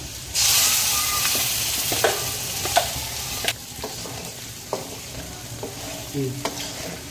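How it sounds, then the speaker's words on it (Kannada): Ground masala for green chilli chicken sizzles steadily in a hot pan as a spoon stirs it, with a constant frying hiss broken by intermittent scraping clinks, close and moderately loud. "ಒಂದು 4 ನಿಮಿಷ ಮಸಾಲೆ ಹಸಿ ವಾಸನೆ ಹೋಗೋ ತನಕ ಒಂಚೂರು ಫ್ರೈ ಮಾಡ್ಕೊಳ್ಳೋಣ."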